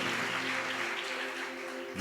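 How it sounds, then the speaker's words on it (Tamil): Congregation at a Salvation Army convention service clapping hands together, a dense steady wash of applause held loud and continuous throughout, with a low hum beneath. "ஏன் உங்களை பலமாய் கைத்தட்ட சொல்லுகிறேன்னால்"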